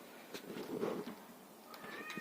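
Cats meowing outdoors in a farmyard, a few drawn-out, moderately loud calls close by against faint background noise and a brief high whistle-like tone near the end.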